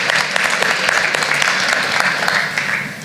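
An audience applauds as a volunteer comes up on stage at a public talk, a loud sustained round of clapping from a large crowd with individual claps audible throughout.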